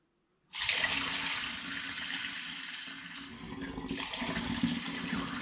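Black porter wort poured through a sieve and funnel into a glass demijohn, a steady close rushing, splashing pour that starts abruptly and runs continuously, with no voices.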